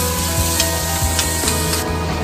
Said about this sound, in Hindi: अब इसमें थोड़ी सी हल्दी पाउडर डालेंगे और इसको मिक्स कर लेंगे और फ्राई होने देंगे